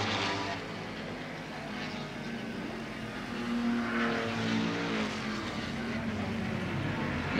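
Touring cars racing through fast sweeps at the 1971 Australian Grand Prix, a continuous loud engine drone with rising and falling revs. Several cars pass, and crowd and track noise sit underneath.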